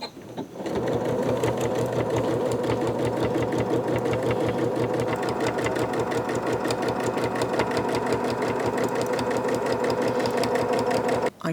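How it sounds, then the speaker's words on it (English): Sewing machine stitching a quilt, running steadily at speed for around eleven seconds with a loud, close, rapid rhythmic chatter of the needle mechanism, starting and stopping abruptly. "in my particular case I've got my machine set up for that to be a favourite stitch"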